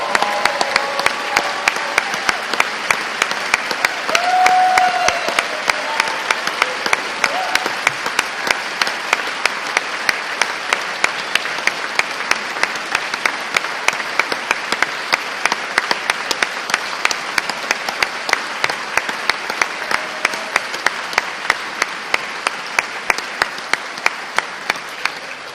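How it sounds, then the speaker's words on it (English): A crowd at the 2023 State of the State address gives long, steady, loud applause, with many hands clapping continuously and no talking over it. "Let's give all these kids a round of applause."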